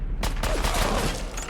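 Video game enemy gunfire, a loud burst of rapid shots that continues as a dense, sustained clatter, close and alone without talk.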